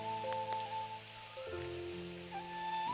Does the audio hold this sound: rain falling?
yes